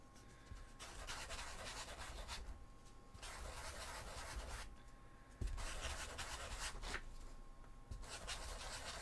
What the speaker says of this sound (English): So I'm trying to just sand down these.